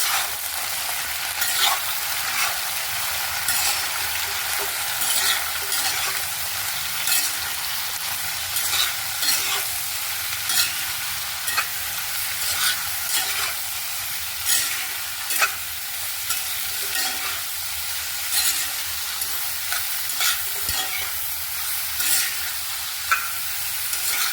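Potato and ivy gourd curry sizzles in a pan while a spoon stirs it, with a steady bright frying hiss and regular scraping strokes repeating close up throughout.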